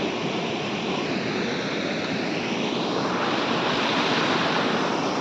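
A waterfall roars in a steady, loud, broadband rush of falling water, continuous throughout with no voices.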